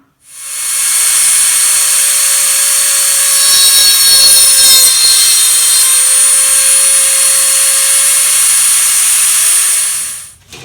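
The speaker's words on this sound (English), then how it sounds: "that's how the Highline Guitars fret tang nipping Dremel attachment works" A Highline Guitars fret tang nipping attachment on a Dremel rotary tool runs steadily for about ten seconds, a loud high-pitched motor whine with a constant tone, starting and stopping cleanly, with no talk over it.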